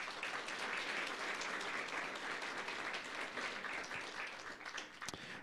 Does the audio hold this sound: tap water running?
no